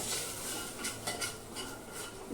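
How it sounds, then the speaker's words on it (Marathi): Masala being stirred and smashed in a metal cooking pot, giving a steady scraping and clinking of spoon against pan, close and fairly quiet, with no talking. "चांगलं व्यवस्थित हलवून घ्या"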